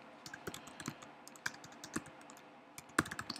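Computer keyboard keys pressed to type a word, a handful of distinct close clicks in an irregular rhythm, with a louder tap near the end and no talking.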